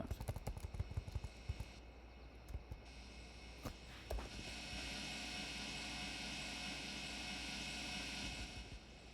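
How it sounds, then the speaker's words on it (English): Engine in Scrap Mechanic whirs and drones, struggling, with a sustained humming tone under a series of sharp clattering knocks at the start, then a steady loud mechanical whine for the rest. "You can hear the whirring of that engine just struggling."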